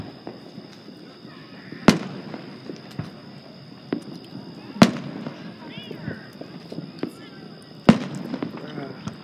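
Several sharp Fourth of July fireworks bangs go off a few seconds apart, with smaller pops in between, heard at a distance over a murmuring background.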